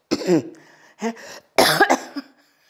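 Several harsh coughs in quick bursts, close and loud, with brief pauses between them and no talking.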